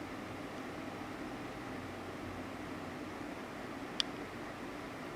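A Daikin ductless mini split air conditioner running in powerful mode gives off a steady, even roar of blowing air that fills the room, with one brief click near the end.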